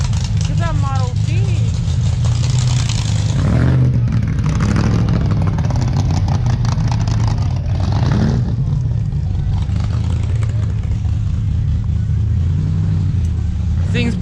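A Ford Model T hot rod with a Viper engine runs loud and close at a car show, a deep rumbling idle with a few revving swells, steady throughout.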